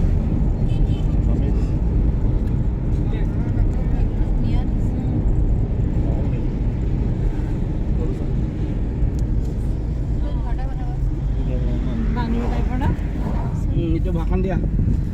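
A car drives along a road on a long trip toward the Deopani bridge near Roing in Arunachal, its steady engine and road rumble continuous throughout, with people talking over it.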